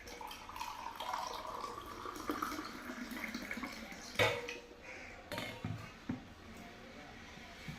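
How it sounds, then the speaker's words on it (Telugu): Water splashes and trickles steadily into a glass at close range, with light clinks of glassware and kitchen clatter. "ఇప్పుడు మనము ఒక గ్లాస్ తీసుకొని దాంట్లో వాటర్ పోసుకుంటున్నాం"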